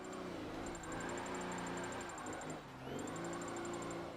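A drift car's engine holds a steady mid-range rev, a continuous droning hum with slight rises and dips and a faint high whine, heard close without speech.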